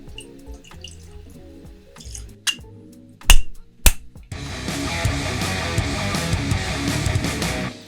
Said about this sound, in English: let's give it a pour and give it a whiff